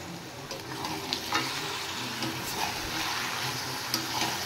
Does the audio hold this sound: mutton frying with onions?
yes